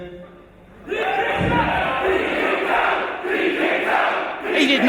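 A wrestling crowd at a live event erupts into loud sustained shouting and chanting after a quiet moment, the roar filling the arena.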